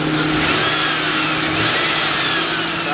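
A 4.6-liter V8 in a stretched Lincoln Town Car limousine runs steadily at close range, a loud, even hum with no talking.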